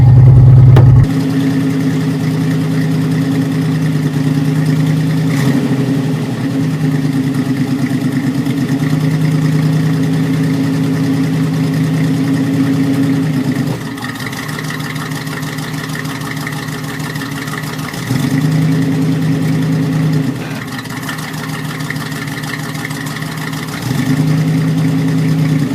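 A Ford F100 XLT truck with a 351 Cleveland V8 engine and a leaking radiator cap runs close by, idling steadily and shifting in pitch and level several times as it is revved and driven.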